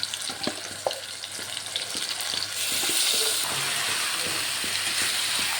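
Meat tossed into a pan of fried onions sizzles steadily and close, with stirring clinks and scrapes early on before the frying swells into a louder, even hiss.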